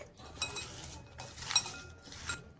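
Chopped onion and salt are stirred in a bowl for bhaji, making a few scattered metallic clinks and scrapes of spoon on the bowl, close and fairly soft, with no talking.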